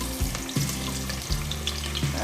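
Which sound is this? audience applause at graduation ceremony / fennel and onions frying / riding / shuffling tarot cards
fennel and onions frying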